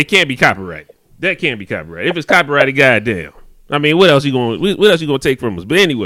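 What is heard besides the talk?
None of the usual background noises is heard.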